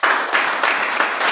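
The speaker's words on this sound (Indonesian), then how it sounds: "Beri tepuk tangan buat Tuhan." A church congregation breaks into applause at a Sunday service, a dense, even wash of many hands clapping together, loud and continuous with slight swells, no talking over it.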